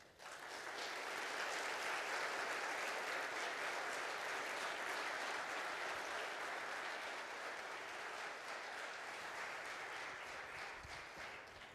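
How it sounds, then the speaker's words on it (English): An audience applauds after an evening talk by James K.A. Smith, sustained, evenly spread clapping from a large crowd, rather faint and distant, rising quickly and tapering slightly near the end. "Another round of applause, please."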